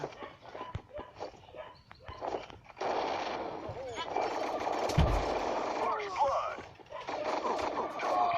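Rapid bursts of gunfire and explosions from the Crisis Action shooting video game play over ongoing chatter between players, with game sounds layered under the talking.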